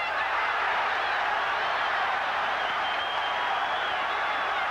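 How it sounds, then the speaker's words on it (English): A boxing crowd at the Rocky Lockridge versus Wilfredo Gomez fight murmurs and stirs as one continuous, even roar, with no single clap or shout rising above the mass. "the crowd reacting to whatever Gomez does"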